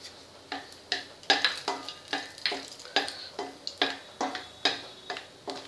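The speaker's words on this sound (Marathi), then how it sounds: "आता आपण हे बदाम गरम करून घेऊया।" Almonds heated in a pan are stirred, giving a close, regular series of about a dozen crisp scraping clicks and rattles with soft frying hiss between strokes.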